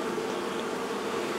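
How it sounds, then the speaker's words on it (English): Bees swarm around an old barrel, with more bees still inside it, giving a steady, dense insect buzz that stays close and unbroken throughout with no voices. "There's still a bunch of bees on the barrel, and there's still some inside the barrel,"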